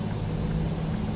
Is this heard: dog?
no